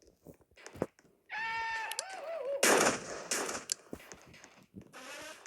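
Video game gunshots crack out in sharp bursts, several loud reports in quick succession over a couple of seconds, mixed with game effects and a brief tonal sweep, with sparse quiet gaps at either end.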